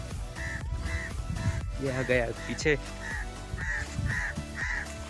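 Crows caw repeatedly in short bursts close by, mixed with a person speaking Hindi and movement noise while walking home.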